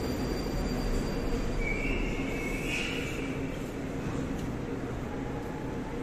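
Steady rumbling of a moving Moscow metro train on the Big Circle Line, with a brief high squeal rising midway over the continuous wheel and motor drone, moderately loud throughout.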